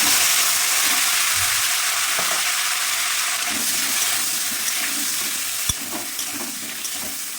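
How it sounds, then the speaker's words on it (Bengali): Potato pieces coated in salt and turmeric fry in hot oil in a pan, a steady close sizzle and hiss with occasional stirring scrapes and a sharp clink near the end. "নুন হলুদ মাখানো আলুগুলি এবার ভেজে নিচ্ছি"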